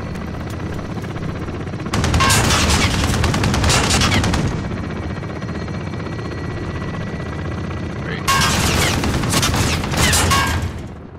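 Gunfire in Call of Duty: Modern Warfare, with a helicopter in the fight: two dense bursts of rapid automatic shots, the first lasting a couple of seconds and the second starting after a pause, over a steady rotor-like drone.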